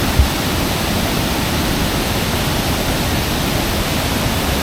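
Kuang Si waterfalls in Laos rush with a dense, continuous broadband roar, loud and close, steady throughout with no voices.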